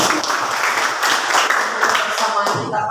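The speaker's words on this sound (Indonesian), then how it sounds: "mari kita tepuk tangan" Classroom of pupils applauding together after a teacher's greeting, a dense burst of clapping hands that fills the room for several seconds.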